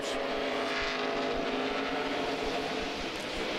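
NASCAR Busch Series race cars roar around the track at the 2007 Zippo 200, a continuous, moderately loud engine drone heard from a distance, with no voices.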